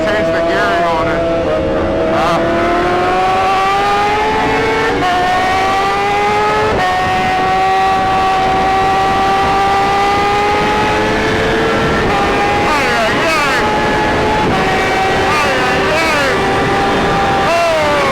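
Honda Fireblade motorcycle engine screaming at high revs around the Daytona race track, a loud, steady rising and falling whine with gear changes, heard close from the bike over rushing wind.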